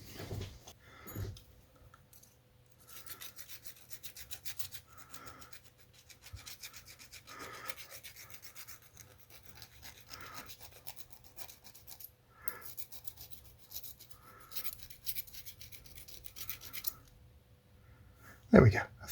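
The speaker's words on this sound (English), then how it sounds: "Let's get a needle file." A small needle file rasps steadily against a model wheel in quick, even back-and-forth strokes, close and fairly quiet, with a sharp knock right at the end.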